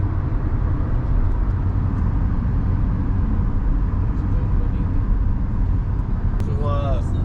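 Rented car driving on a motorway in Oman, a loud steady low road and engine rumble from inside the cabin, with a person talking over it.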